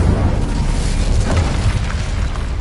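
A loud, sustained fiery blast from the Incendio spell in the Hogwarts Legacy video game, a dense roaring burst that rumbles steadily for a few seconds.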